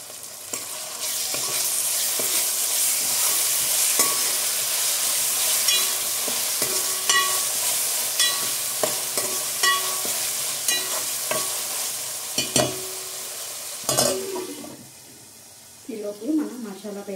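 Chicken biryani masala sizzles and fries in a pan on a medium flame while a spoon stirs and scrapes, with intermittent clinks, a soft sizzle throughout and a voice talking over the cooking.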